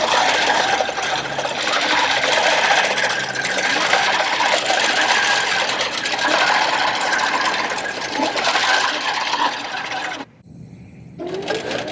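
A Grace Factory quilting sewing machine stitching out a quilt block on its own, a steady fast mechanical whir and chatter running for about ten seconds before abruptly quieting near the end.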